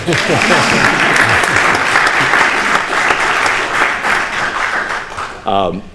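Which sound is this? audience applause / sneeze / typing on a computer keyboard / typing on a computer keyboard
audience applause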